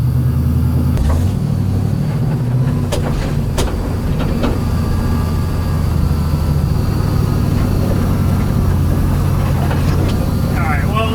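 Car engine revving hard on a personal car that idles roughly until warmed up, a loud sustained low rumble with rising and falling rev bursts throughout, close and continuous.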